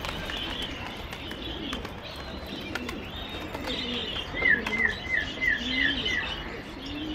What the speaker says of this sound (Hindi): अरे वहाँ भी खुल गए भाई कबूतर